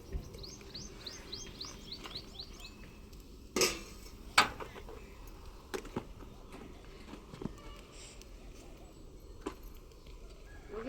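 A lid is placed over a cooking pan holding oil, garlic and salt, producing two sharp, close metallic clanks a moment apart, with faint birds chirping and low room noise around them.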